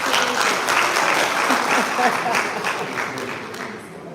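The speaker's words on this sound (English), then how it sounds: "Please give him a round of applause for being" An audience at a live event applauds, a loud, full round of clapping with voices mixed in, holding steady before tapering off slightly toward the end.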